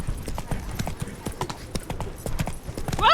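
Roach, a horse in Witcher 3, gallops with a steady run of hoof clip-clops under a low rumble, ending in a brief rising whinny-like sweep; a voice speaks briefly.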